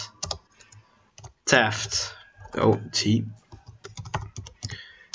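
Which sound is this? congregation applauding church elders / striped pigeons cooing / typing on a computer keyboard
typing on a computer keyboard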